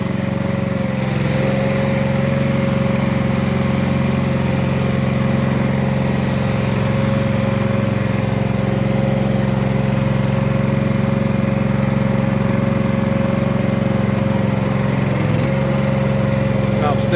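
Loader driving with 300 kg in its bucket, the engine holding a steady, droning note close by with a constant mechanical whine, almost unchanged throughout.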